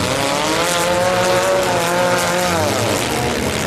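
Stock compact race cars roar steadily on a dirt track during a heat race, with engines droning and revving loudly throughout and no voices over them.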